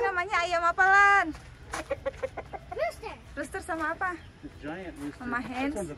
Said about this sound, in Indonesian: Giant rooster.